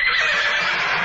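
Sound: inserted sound effect of horses neighing

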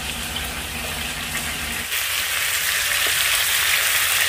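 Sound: tomatoes cooking in a pan for fried fish soup

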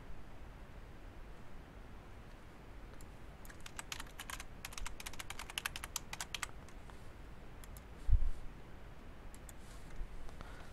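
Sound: typing a password on a computer keyboard

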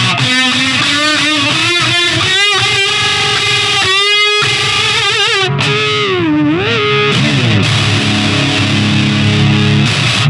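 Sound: electric guitar through Boss DS-1 distortion pedal

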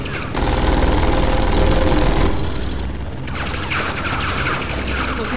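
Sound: gunfire in a video game

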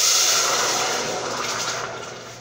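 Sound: pouring half a cup of water into a pot for fufu

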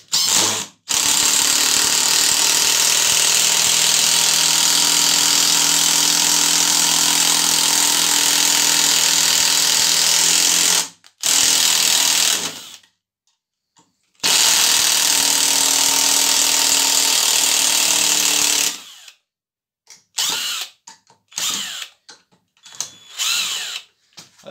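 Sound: Graphite Energy+ impact driver driving black screw

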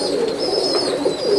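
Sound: pigeon cooing

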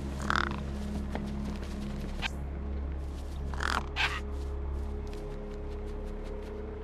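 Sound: crow cawing in video game Beyond a Steel Sky

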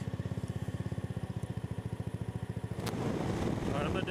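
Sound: scooter riding at speed on a back road

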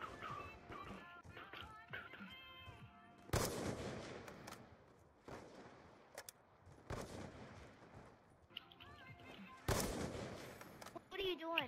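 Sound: gunshots from a video game window shot

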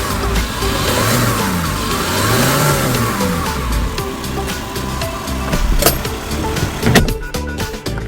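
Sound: Hyundai Porter refrigerated truck diesel engine revving

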